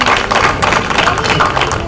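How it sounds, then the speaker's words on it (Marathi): Dense applause from a medical association gathering in Karjat, honouring the outgoing president at the end of his tenure; steady, close clapping fills the whole stretch with no clear break. "त्यांच्या टेन्युअरसाठी आपण जोरदार टाळ्या देऊया."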